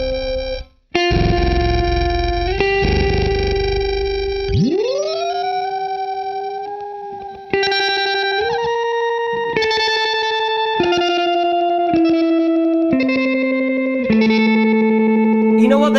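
An electric guitar runs through a Chase Bliss Mood effects pedal, strummed chords giving way to a warbling, pitch-bending sustained tone. It then shifts into a sequence of held, stepwise notes with a smooth, synthetic shimmer, loud and up close.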